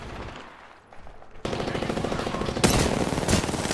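Rapid automatic gunfire in the video game Apex Legends, loud bursts of shots starting after a quieter moment and continuing with sharper cracks, near and dense, without talk.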